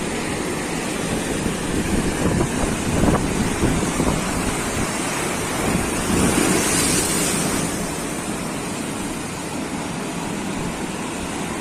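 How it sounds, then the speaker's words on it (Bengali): Large waves of a turbulent sea at the full-moon high tide crash on the shore and run up toward a resort gate; close, loud surf with wind rumble, a strong surge around the middle, then easing to a steadier hiss. "মানে গেটের সামনে অব্দি ঢেউ পড়ছে"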